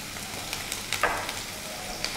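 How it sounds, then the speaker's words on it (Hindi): Ginger and green chilies sautéing in a pan for a potato and green pea chaat give a soft, steady sizzle with a few small pops, close by and with no voices. "अदरक और हरी मिर्च भुन गए हैं, तो अब हम इसमें डाल देंगे हल्दी पाउडर।"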